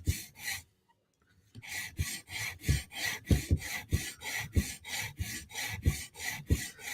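Knife blade stroked rapidly against a sharpening stone while the tip is profiled, a close rhythmic rasp of short repeated passes after a brief pause near the start.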